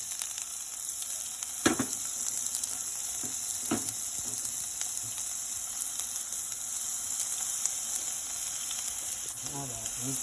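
Ground beef fries in hot grease for chili, giving a steady close sizzle and hiss, with a few soft knocks from a spatula, and no voices heard.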